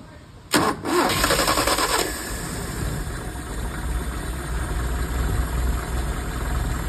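An engine is cranked and catches with a sharp burst, then settles into a steady idle close by; faint talk may sit under the running engine.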